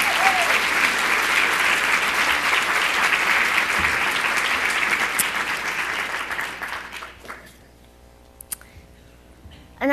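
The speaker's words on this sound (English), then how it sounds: "let's get an applause." Audience applause at a live conversation event, a full, sustained crowd clapping that gradually thins and fades out, followed by near-silence and a voice at the end.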